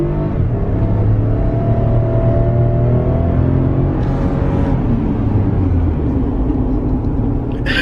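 A Toyota Highlander accelerates hard, its engine roar holding strong and steady for several seconds with a slight rise in pitch, loud and close, with no talking.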